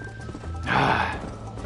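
A horse in the video game Red Dead Redemption, ridden with its stamina run down, gives a short loud burst of whinnying and hoof noise in the middle of a steady game background.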